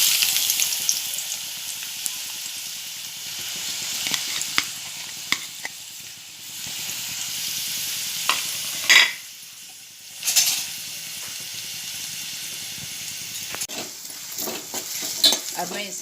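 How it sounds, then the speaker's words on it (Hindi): Chopped onions frying in hot oil in a pan: a steady hiss and sizzle with intermittent scraping and clinking of a stirring spoon, a few louder scrapes and brief dips, with no talk. "अब मैं इसे नरम होने तक तेल में तलूँगी।"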